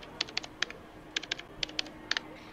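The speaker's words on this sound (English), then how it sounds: "you can hear me type it in" Bursts of rapid key clicks on a computer keyboard as a cheat code is typed in, several quick clusters of close, crisp taps separated by short pauses, with no talking.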